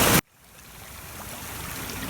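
Incoming tide washing up over sand: a short loud splash at the start, then a soft hiss of water that swells steadily as the wave runs in.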